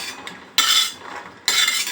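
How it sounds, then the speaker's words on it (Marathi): Roasted chickpeas are scraped from a pan onto a plate with a metal utensil: two loud, close grating scrapes separated by a short, quieter pause, with no voices. "आता हरभरे भाजलेले आहेत, ते ताटात काढून घ्यायचे"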